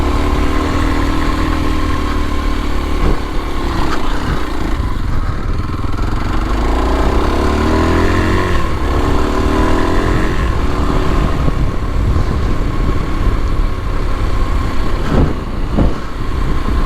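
A 2022 Kawasaki KLX230SE dual sport motorcycle engine chugs steadily at low revs while climbing, loud and close throughout, with a gritty mid-range drone and occasional knocks from the ride.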